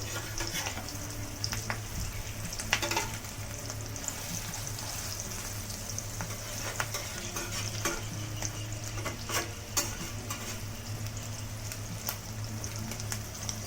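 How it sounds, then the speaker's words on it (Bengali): Fish roe cutlets sizzling and frying in hot oil, a steady crackling hiss with occasional pops and scraping of a utensil, no voices. "দেখুন আমার এইগুলো ভাজা হয়ে গেছে খুব সুন্দরভাবে"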